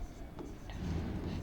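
Marker or chalk scratching out a word on a classroom board, a few short faint strokes and squeaks, soft and close with low room hum underneath.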